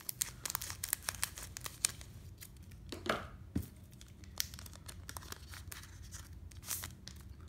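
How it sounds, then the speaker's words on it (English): Scissors snip open a Pokémon Lost Thunder booster pack, a run of sharp crinkly clicks and rustles of foil wrapper with one longer tearing rip midway, close and fairly quiet. "Using the scissors faster."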